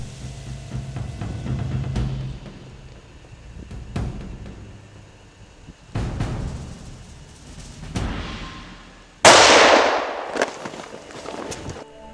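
A rifle shot fired at a moose during a hunt rings out as a sharp, loud crack near the end, with a few weaker bangs and rustling outdoor wind noise earlier.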